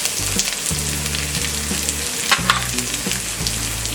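Asafoetida hits hot oil with jeera already in the pan, giving a loud, steady sizzle and crackle with light stirring, close up and without voices.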